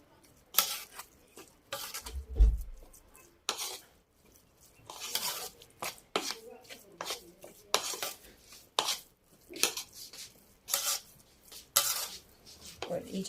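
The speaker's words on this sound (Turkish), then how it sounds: "Şimdi tahiri de içine karıştırıyoruz." Warmed tahini is worked into padırık dough in a bowl, producing irregular scraping, clinking and mixing noises against the bowl, moderately loud with short pauses and a brief low thump.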